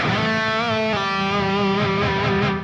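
A sustained distorted electric guitar rings out loud and close, held notes bending slightly and shifting once before trailing off.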